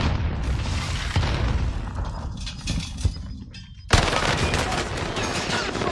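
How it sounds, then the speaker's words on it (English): A frag grenade bursts amid steady gunfire in the video game Warzone, with dense, loud battle noise throughout, a sharp blast near the four-second mark and continuous shooting after it. Brief voices can be heard under the din. "Throwing frag."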